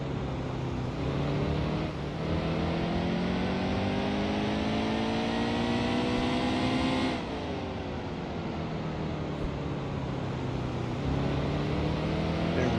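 A NASCAR Heat 2 Cup race car at Martinsville drifts through the middle of a corner, its engine droning steadily with a rising then falling pitch as the throttle lifts and comes back on, loud and continuous, heard alone.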